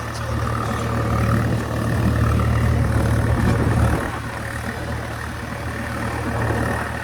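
An old Swaraj 855 tractor engine runs steadily at close range, a deep, continuous diesel rumble that eases slightly partway through and then holds, with no one speaking.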